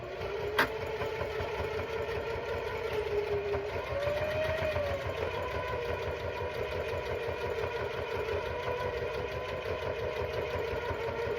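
A sewing machine runs steadily while back stitching a quilt block, a continuous close mechanical whir with a brief click near the start and no pauses.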